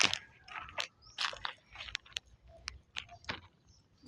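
Someone biting into and crunching food, a series of sharp, crisp crunches spaced irregularly, close to the mic with quiet gaps between bites.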